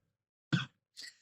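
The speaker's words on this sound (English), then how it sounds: "this one, my coughing part will be cut out" A single short, fairly close human cough followed by a softer breathy exhale or second cough a moment later, in an otherwise quiet indoor room.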